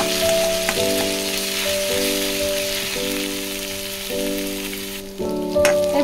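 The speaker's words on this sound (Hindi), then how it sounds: "एबे हम सोरिष जीरा फुटी गलानी" Mustard seeds and cumin splutter and crackle in hot oil, a dense close sizzle with scattered pops, steady throughout under a faint background hum.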